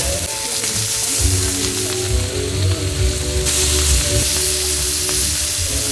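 Steady loud sizzling and crackling of food frying at an outdoor BBQ, where ribeye is on the menu, with continuous spitting close by and shifting hiss throughout.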